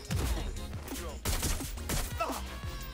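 Gunfire in Watch Dogs Legion, a rapid cluster of sharp, close shots in quick succession over game noise, with faint voices mixed in.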